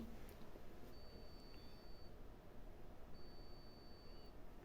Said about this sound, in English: Small beeps because it's out of power.